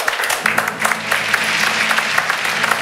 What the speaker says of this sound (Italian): facciamo un applauso così, dai, facciamo.